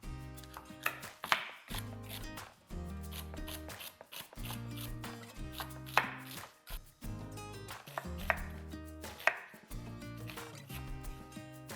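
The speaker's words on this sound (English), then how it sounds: "we've got some carrots, celery, and onion here, and we're just gonna slice these up" Knife slicing carrots, celery and onion on a cutting board, a steady series of close, crisp chopping knocks with short crunches between strokes, heard alone.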